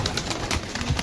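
A flock of pigeons kept for sale, cooing together in a dense, continuous murmur that fills the brief moment, fairly close and steady with no talk over it.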